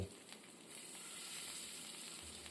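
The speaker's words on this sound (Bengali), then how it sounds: "মাছটা এক এক করে ফ্রাই করে নিচ্ছি।" Pabda fish sizzling in hot oil in a pan, a steady soft frying hiss with faint crackles, heard close with no talking.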